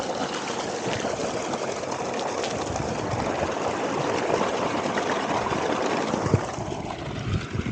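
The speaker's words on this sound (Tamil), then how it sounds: "இப்போ கழனிக்கு தான் தண்ணி பாஞ்சிட்ருக்கு." Water pours and rushes steadily into a paddy field, a dense continuous wash of flowing sound close by, with no voices.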